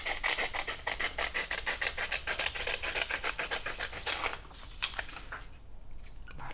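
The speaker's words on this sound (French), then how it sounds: "Je découpe une fine bande." Scissors cutting a thin strip of paper to make snail tentacles for a craft, a steady run of rapid rasping snips close up that slows and fades near the end.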